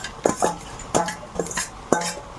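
Fried prawns being stirred into leafy greens in a pan with a metal spatula: four clear scraping, clinking strokes come at an even rhythm, close and fairly loud, with no voices.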